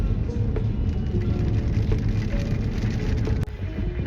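Rain falls steadily on a road in traffic, a constant hissing wash with vehicle rumble underneath and a few sharp ticks of drops, close and unbroken throughout.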